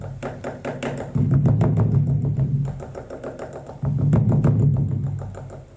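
A steady, loud drum beat with rapid, evenly spaced strikes, played in two longer sustained passages, meant to evoke the flapping of a condor's great wings in Inca tradition.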